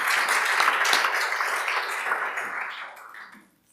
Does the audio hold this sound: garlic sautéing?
no